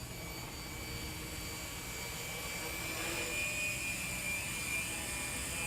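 A Walkera 4F200LM RC helicopter climbs out in flight with a steady, buzzing rotor and motor whine, fairly faint and continuous at a distance, with some voice present.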